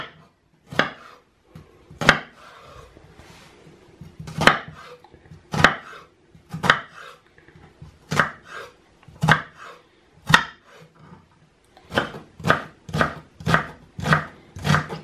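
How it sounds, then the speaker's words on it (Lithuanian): A knife chops onions on a cutting board in sharp, distinct strokes, irregular at first and then quickening into a steady run of quick chops near the end, recorded close and clear with no talking. "Spjaustom svogūnus."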